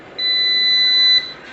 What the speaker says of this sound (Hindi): और ये फिर से एनसीटी का अलार्म आ रहा है